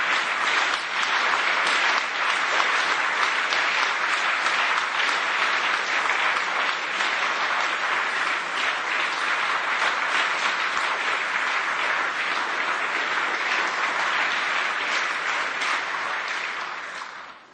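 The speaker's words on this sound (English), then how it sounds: "That applause" Sustained, loud applause from a large audience fills the European Parliament chamber, a dense unbroken wash of clapping that holds steady before tapering off at the very end.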